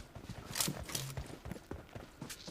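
Horse hooves clip-clop in PUBG Mobile, an uneven run of soft, close hoof knocks with a few sharper clicks, moderately loud, with no speech.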